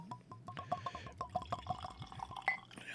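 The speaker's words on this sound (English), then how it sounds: "nice little pour there" Liquid glugging out of a corked bottle into a glass, a rapid, steady series of gurgling pulses rising slightly in pitch as it fills, close and clear.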